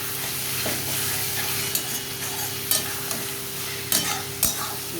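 Potatoes with cumin and spices stirred in a sizzling pan for chicken curry, a steady frying hiss punctuated by several sharp scrapes and clinks of the spoon against the pan.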